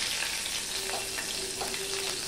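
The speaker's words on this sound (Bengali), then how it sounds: "দেখো গরম মশলাটা ফোড়ন হয়ে গেলে আমি দিয়ে দিলাম রসুন" Chopped garlic hits hot oil just after whole garam masala has been tempered for a cabbage curry, giving a quiet, even sizzle that holds steady throughout without any voices.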